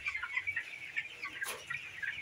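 Chickens cluck and murmur close by at a small tilapia and poultry mini farm, a steady run of soft clucks and calls with one brief sharper burst midway, no talking.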